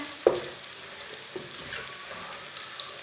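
Sliced bananas frying in a pan for a Banana Masoor Dal recipe, with a steady soft sizzle, one brief stirring knock near the start and faint scraping, no talking.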